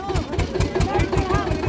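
An Eicher tractor engine idles with a rapid, even low chugging, close and fairly loud, while people talk over it.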